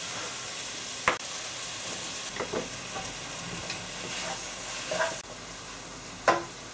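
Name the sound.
chicken frying in a pan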